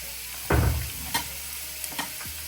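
French fries frying in hot oil, with a loud burst of stirring and scraping followed by a few lighter clinks and knocks over a steady sizzle.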